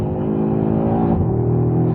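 A 2022 Audi RS3's five-cylinder engine revs hard and close, a dense steady growl that shifts pitch partway through and holds strong to the end, with no voices over it.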